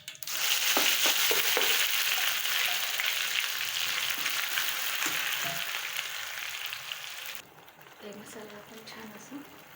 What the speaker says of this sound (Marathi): आता यामध्ये आपण कांदा, लसूण, अद्रक, खोबरा, टोमॅटोची पेस्ट टाकूया आणि याला आपण छान असं तेलामध्ये फ्राय करूया।